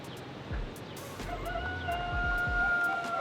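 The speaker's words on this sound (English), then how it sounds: "The chickens are singing, or roosters are singing." Roosters crow several times at a moderate distance in rural Guatemala in the morning, their drawn-out calls overlapping against a steady outdoor hum with a few low thumps.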